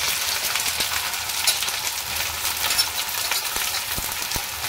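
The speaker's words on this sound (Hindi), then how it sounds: "चलिए अब इसमें प्याज डाल लेते हैं अच्छी तरह से" About 300 grams of onions fry with bay leaves in hot oil for a chicken feet (paya) curry, giving a steady, close, dense sizzle and crackle with a few faint stirring clicks and no talking.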